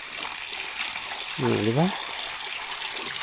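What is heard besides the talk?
fresh farm spring water flowing as it is fetched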